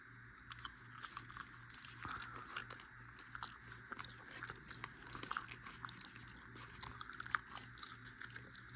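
Cinnamon-flavored gum chewed close up in a steady, continuous run of soft wet smacks and clicks, with a low hum running underneath and no talking.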